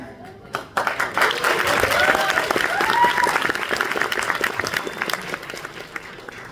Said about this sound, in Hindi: आप लोग ताली मार रहे हो